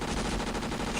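Dense, rapid gunfire from many guns in a video game, a loud continuous burst of overlapping shots filling the moment with no voices.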